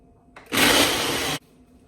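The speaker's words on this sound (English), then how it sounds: "turn my blender on, and we're gonna go ahead and blend" A kitchen blender whirs loudly for about a second while blending a strawberry colada smoothie, a steady high motor roar starting and stopping abruptly against a quiet room.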